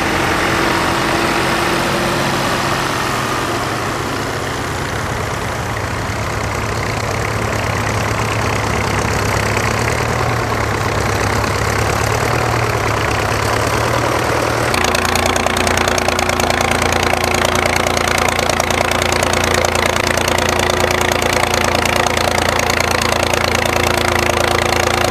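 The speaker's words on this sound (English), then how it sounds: "In the next door field, there's quite a nice selection of smaller tractors hard at work." Small vintage tractors work a rain-soaked field at a working-tractor event in Nottinghamshire, their engines droning steadily and loudly nearby. The engine note shifts partway through, and then a rougher, knocking tone continues.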